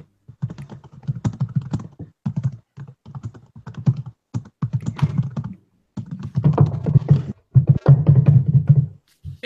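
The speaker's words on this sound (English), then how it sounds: "Stop abusing your keyboard." A computer keyboard is hammered in hard, fast bursts of typing, clacking keystrokes close and loud with short pauses between runs and heavier thunks near the end, alone without speech.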